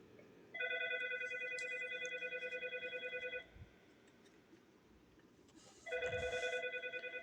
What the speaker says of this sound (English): I'm just going to dial extension 200, which is the desk phone on my desk.